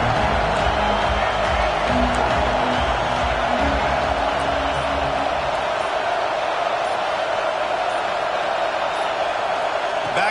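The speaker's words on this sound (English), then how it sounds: "This crowd bringing an ear-splitting welcome to their visitors." Broadband crowd roar at a college football game between UCLA and Cal fills the stadium, loud and sustained with no letup, while a commentator talks over it.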